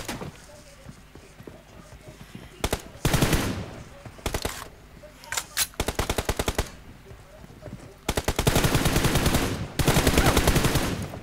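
Gunfire in a shooting video game comes as repeated sharp automatic bursts separated by short pauses, some long and sustained, loud and close, with faint background game sounds between them.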